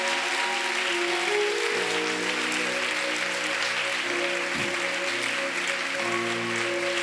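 Crowd at a church gathering applauding and cheering to acclaim Jesus, a dense sustained roar of clapping and voices with musical tones held underneath, loud and steady throughout.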